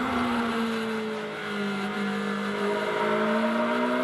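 A race car in Blancpain Sprint Series free practice at Moscow accelerates onto a long back straight, engine note rising steadily through a gear change, loud and close with no voices.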